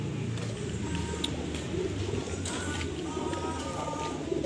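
Pigeons coo softly in low, rolling calls, with several birds overlapping close by amid faint background noise, at a pigeon market.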